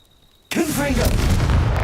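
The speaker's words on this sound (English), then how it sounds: "Confringo!" A Confringo explosive spell blast in the Hogwarts Legacy game bursts in abruptly after a near-silent half second, then rumbles on as a loud, sustained roar with a voice shouting over it.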